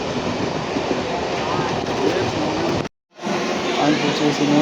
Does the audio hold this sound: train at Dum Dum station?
yes